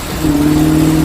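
1968 Dodge Charger with a Thermal Quad carburetor revving hard at full throttle, a loud, close, sustained engine roar with a steady droning pitch.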